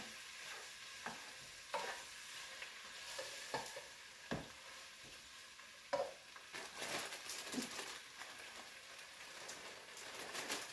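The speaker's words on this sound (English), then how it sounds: "Give those a good stir. It's already cooking down a little bit." Leafy greens sizzle and soften in a hot pan for a Middle Eastern sauté, a soft, continuous crackle broken by occasional stirring scrapes and knocks, fairly quiet and close, with no talking.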